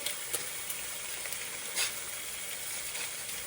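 Eggs sizzle steadily in a hot pan as they are flipped, a dense continuous crackle with a few brighter pops and a soft scrape partway through, no voices.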